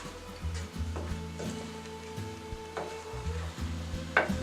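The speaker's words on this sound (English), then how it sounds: "I'm just going to mix it up until it's all combined." Sourdough starter being stirred into flour for an off-grid cast iron meal, giving soft, continuous scraping and wet stirring sounds with a steady low rumble, close by and without talk.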